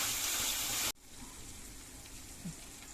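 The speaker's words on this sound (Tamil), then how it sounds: "தக்காளியெல்லாம் ஸ்லோவில் வச்சே வதங்கணும்" Tomatoes sautéing slowly in oil for sundakkai vathal kuzhambu give a dense, hissing sizzle for about a second. It then cuts off sharply, leaving only a faint, quiet background.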